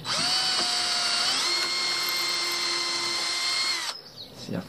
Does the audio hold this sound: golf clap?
no